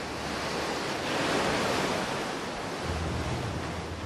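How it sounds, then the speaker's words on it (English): Ocean surf rolls in as a broad, continuous hiss of breaking waves, swelling slightly and then easing, steady and moderately loud with some wind rush and no voices. "the bubbles that we see from the breaking waves"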